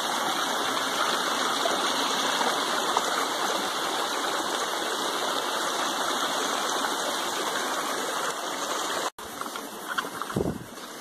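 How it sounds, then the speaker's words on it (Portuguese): A mountain stream rushes steadily, a dense and constant flow of water heard up close, briefly cut by a sharp click and a low thump near the end. "Chegamos no riacho aí, pessoal."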